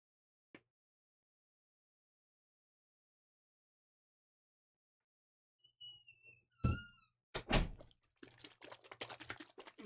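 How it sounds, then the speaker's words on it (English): A door pulled shut indoors during a chilly mixed-media art session, landing as a couple of solid, close thumps followed by a scatter of rattling, knocking handling noises. "I'm cold. I'm closing the door."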